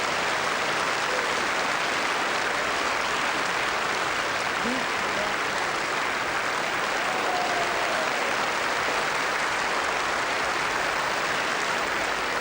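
Indoor bowls crowd at the 1993 World Indoor Bowls Championship doubles applauding a shot: dense, steady clapping fills the hall without a break from start to finish.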